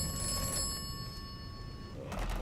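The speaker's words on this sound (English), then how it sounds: "The phone is ringing." A telephone rings inside the video game Atomfall, its electronic bell tones sounding steadily over low ambient rumble for a couple of seconds before fading.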